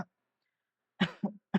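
A voice imitates a weak, lingering cough: one short breathy hack, then after a pause a few feeble, drawn-out coughs close to the mic, lacking force.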